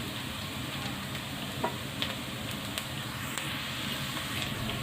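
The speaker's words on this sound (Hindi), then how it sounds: "जब तक प्याज फ्राई हो रहा है मैं साथ में टमाटर काट लेती हूँ" Onions fry in a pan with a steady, fairly soft sizzle and hiss, a few faint clicks and ticks rising from it over about five seconds.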